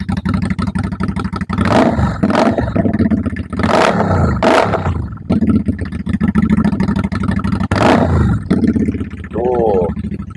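A red custom SM V16 motorcycle is started with a loud roar, its engine blipped through several sharp revs and settling between bursts, with someone talking briefly near the end.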